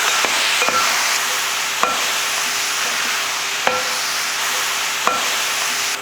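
Steady sizzling from a hot pan of country chicken gravy, with a spoon scraping and clinking against the pan every second or two as the chicken is stirred.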